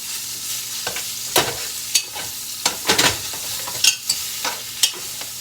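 Chunks of meat browning in a large double soup pot for keto Zuppa Toscana, a steady sizzle broken by scrapes and knocks of stirring, close up with nobody talking.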